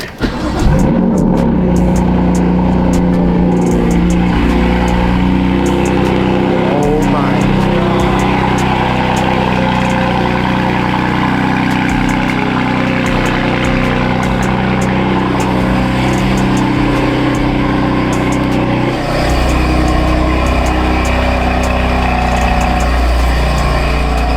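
A BMW F80 M3 engine revs hard and loud nearby, a sustained roaring snarl that rises and falls through repeated pulls for over twenty seconds, with no talking over it.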